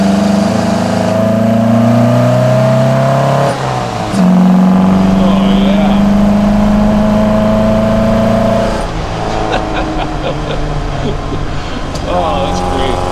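An Opel Manta A engine with twin Weber DCOE 40 carburetors revs up and down repeatedly, loud and close, with throttle blips rising in pitch; a voice speaks briefly over it.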